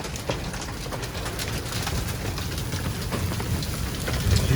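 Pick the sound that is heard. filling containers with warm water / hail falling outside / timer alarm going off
hail falling outside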